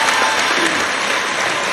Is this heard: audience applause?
yes